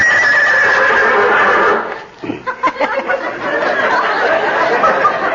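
A horse neighs and whinnies as a sound effect in an old-time radio comedy, a loud drawn-out whinny that breaks off, followed by sputtering snorts and hoof-like clatter.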